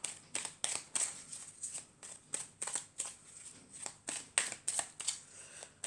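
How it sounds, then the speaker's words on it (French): Oracle cards being handled and drawn from a deck, with a steady stream of close, crisp papery flicks and slaps, like cards being shuffled, running throughout with no talking. "je vais prendre une carte de murmure de nos anges pour clôturer le tirage"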